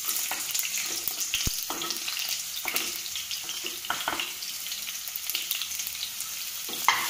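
Sliced onions sizzle in hot oil in a pan for Palakkad beef biryani, a steady crackling fry with occasional stirring scrapes and a sharp clink, fairly close and without talk.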